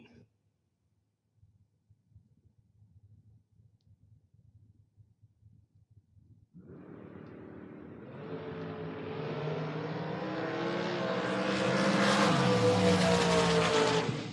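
Drag racing launch of a Mustang against a dragster: a quiet low rumble, then engines roar to life and swell into a loud, sustained, rising high-revving blast as the cars accelerate down the strip.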